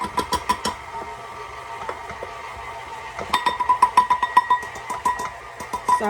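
An electric mixer whirs as it works through sugar cookie dough. The beaters clatter rhythmically against the bowl in close, repeated taps that grow busier partway through.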